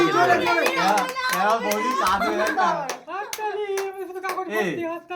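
Hands clap in quick bursts at a birthday gathering, mixed with lively talk, a voice and laughter over the first few seconds, then scattered single claps.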